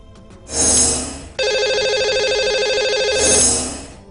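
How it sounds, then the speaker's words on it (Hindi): A telephone rings as a call is placed to a caller on a Hindi call-in show: short dial tones, then a loud, steady electronic ringing tone that holds for two seconds and fades away, with no voices. "लगाते हैं इन्हें कॉल और करते हैं इनसे बात"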